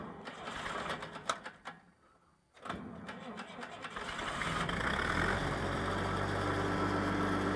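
A Lincoln SA 200 welder's engine is choked and cranked, then catches and settles into a steady, loud running drone that builds and holds after a short quiet gap.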